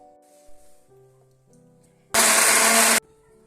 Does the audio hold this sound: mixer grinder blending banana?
yes